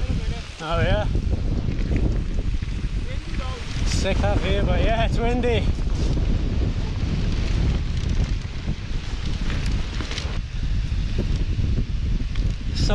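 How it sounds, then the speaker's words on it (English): Wind buffets an exposed mountain bike trail at the top of a descent at Whinlatter, a steady loud rumble and roar running throughout, with people talking over it and some brief rustling. "it's exposed and windy"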